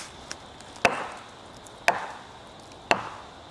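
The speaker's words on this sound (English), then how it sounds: "this first trick I'm going to use is called the wood knocking" Three sharp wooden knocks spaced about a second apart, each a single crisp strike of wood on wood ringing out in an open outdoor setting with a faint earlier tap and quiet surroundings.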